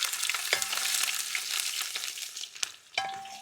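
Ginger fries in hot oil for a Kerala-style sardine pickle, producing a close, steady sizzle with crackling bursts and a few sharp clicks of a spoon stirring the pan.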